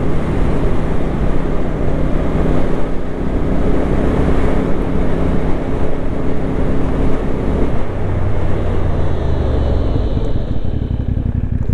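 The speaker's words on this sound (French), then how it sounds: "Le moteur ne devient pas plus discret à l'échappement, mais on a une machine qui n'est pas pousse au crime." A CF Moto 450 NK motorcycle ridden on the road, with a steady engine and exhaust drone masked by strong, continuous wind buffeting across the whole stretch.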